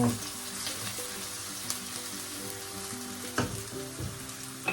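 Chopped onion and thyme frying in a pot for a Jamaican vegetable stew, a steady soft sizzle with occasional small pops and stirring scrapes, quiet and close.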